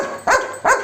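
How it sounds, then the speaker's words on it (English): A village dog gives two short, sharp barks close by, evenly spaced, with a quiet pause between them. "village dog. Village dog."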